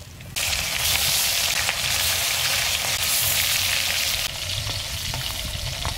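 Fish sizzles steadily in hot oil as a spicy fry, a dense, continuous crackle that holds loud and even throughout with no voices.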